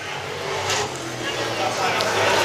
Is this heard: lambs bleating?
no